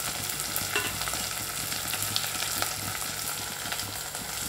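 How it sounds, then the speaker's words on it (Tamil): Green chillies, curry leaves, coriander and mint sauté in a pan with a steady sizzle and faint stirring scrapes, continuous and close with no talking. "எல்லாத்தையும் நல்லா கிளறி விட்டுக்கோங்க. நல்லா வதங்கட்டும்."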